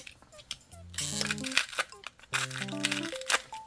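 Plastic packaging around washi masking tapes with dog and cat designs is torn open nearby in two quick bursts of crinkling and ripping, with a short pause between them.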